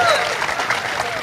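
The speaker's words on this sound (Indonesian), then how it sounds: "Tepuk tangan dong." Audience applause from a crowd at a speech event, dense steady clapping filling the whole brief moment, close and loud.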